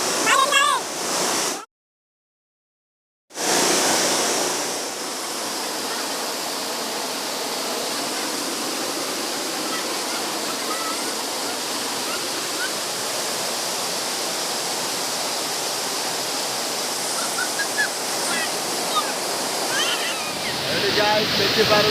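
A waterfall at Mohana in Gajapati roars as a dense, steady wash of rushing water, loud and close, broken by a short dropout near the start, with a voice briefly heard at the edges.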